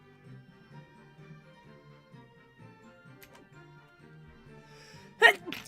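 A single sharp sneeze bursts out near the end, loud and close, after several seconds of quiet low-level background hum and faint voice-like murmur.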